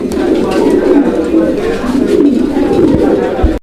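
Low, throaty cooing of a single Mundian pigeon rolls on repeatedly at close range, loud and continuous with a brief break just before it ends.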